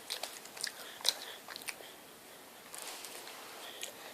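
Someone bites and chews honey butter popcorn close to the listener: soft, crisp crunches, one sharper bite, then quieter chewing in a near-silent room.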